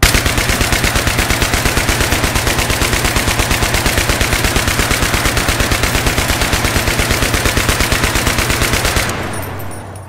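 A weapon in the Battlefield 3 video game fires a long, loud, unbroken burst of rapid automatic shots at a steady rhythm for about nine seconds, then stops abruptly.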